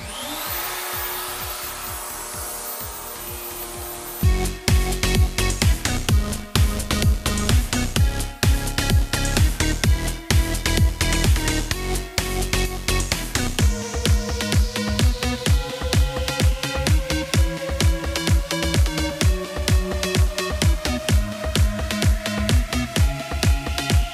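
A Stepcraft 840 CNC mill cuts a 1.7 mm bottom plate underwater in a milling bath, a loud, continuous whine with a fast, rhythmic pulsing chatter that starts abruptly after a quieter hum and keeps a steady tone.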